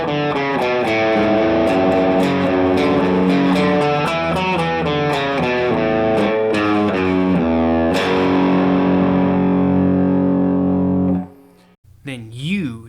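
Distorted electric guitar played open strings without muting, notes smearing into a ringing, buzzing wash of overlapping tones, loud and close, before fading into a brief pause.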